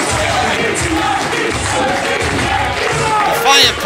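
Crowd at a Connecticut Wrestling Entertainment pro wrestling show during a ten-man tag team match, a steady roar of cheering and shouting throughout that swells near the end, with voices mixed in.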